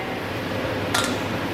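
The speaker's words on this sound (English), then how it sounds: "Excuse the exhaust fan, but this is what we're working with." A kitchen exhaust fan runs with a steady broadband whoosh that fills the whole stretch, and a brief light clink rises briefly over it.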